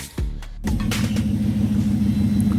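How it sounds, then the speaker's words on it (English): A pickup truck engine cranks and catches, then settles into a steady, loud idle with a low droning hum. "I started the car. Car sound good, everything running fine"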